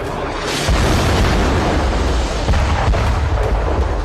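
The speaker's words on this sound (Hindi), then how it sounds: "यहां इजराइल ने मिसाइल से इतना जोरदार अटैक किया कि सैकड़ों टन कंक्रीट की बनी यह भारी भरकम इमारत एक पल में जमींदोज हो गई।" A missile strike brings down a heavy concrete building in Khan Younis, Gaza, heard as a loud, sustained roaring rumble of blast and collapse that fills the whole stretch with no voices.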